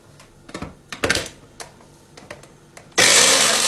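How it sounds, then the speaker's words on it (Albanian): Blender switched on to mix honey and aloe vera for a homemade face mask, a loud steady whir that bursts in after a few scattered clicks and knocks. "E hodhëm dhe mjaltën dhe aloen, edhe do t'i rajmë në blender."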